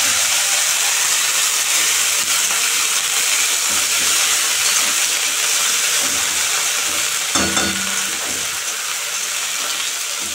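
Thankuni leaves fry in hot oil in a pan with black cumin seeds and chillies, giving a loud, steady, close sizzle and hiss that continues throughout with a brief clatter partway.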